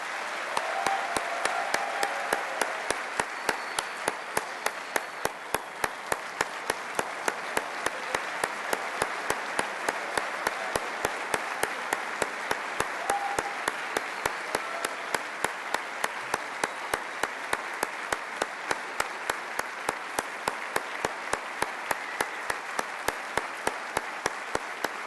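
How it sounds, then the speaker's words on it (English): Sustained audience applause fills a hall during a Texas A&M Hall of Honor induction ceremony, dense steady clapping lasting the whole stretch without any speech over it. "Let's have one more round of applause for our inductees."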